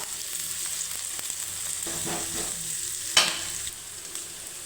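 Onion with curry leaves and green chili sautéing in a pan for a banana-flower egg stir-fry, a steady close frying hiss broken by a few stirring scrapes and one sharper clatter near the middle.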